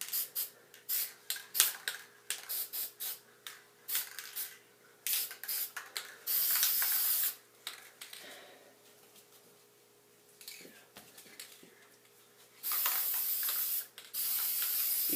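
Short hissing bursts of a spray paint can onto glossy poster board, first in quick rhythmic puffs, then longer sustained sprays, close and crisp against a quiet room.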